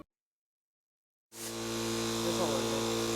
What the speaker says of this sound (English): It looks like the Temu compressor is going to work